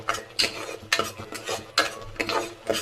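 A ladle stirring spice powders in a pot for country chicken curry, giving a rhythmic series of close scraping sweeps with a faint sizzle underneath, and no talk.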